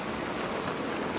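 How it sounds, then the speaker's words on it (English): Heavy afternoon rain falls outside a house in Canlaon City, a dense, steady hiss of drops on surfaces that fills the short stretch evenly and carries no voices. "because of the heavy rain in the afternoon"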